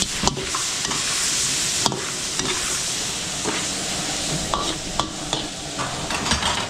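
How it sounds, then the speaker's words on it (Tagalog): Crabs cook in a pan over a loud, hissing sizzle that runs throughout, close and dense, with repeated clanks and scrapes as they are stirred. "lutuin muna natin yung alimango bago natin ilagay yung iba"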